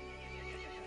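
A horse in the video game Resident Evil Village neighs in one sustained, harmonic whinny, loud and close, alone without talk.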